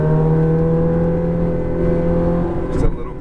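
A Ferrari F430 accelerating hard on a race track, a loud, close engine note holding steady then dropping off near the end, with a brief burst of noise.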